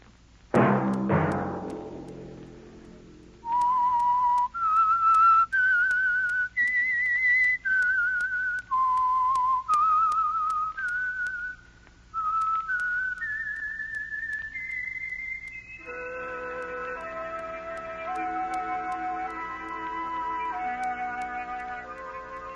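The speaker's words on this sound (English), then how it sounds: "Let that whistle be your signal for the Signal Oil program, The Whistler" Radio show theme whistled by a lone human whistler for The Whistler program: a clear, melodic run of sustained notes rising and falling in steady phrases, loud and close, with a brief instrumental chord at the start and accompaniment joining toward the end.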